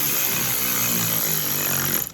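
Electric power tool spinning to start oil cooler bolts on a Jeep Wrangler JK, a short, close, buzzing motor whir lasting about two seconds before cutting off.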